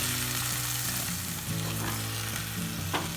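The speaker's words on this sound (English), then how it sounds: "add the chopped plantains." Chopped plantains go into a boiling onion and chilli mix, giving a steady, close bubbling sizzle with light stirring clatter throughout.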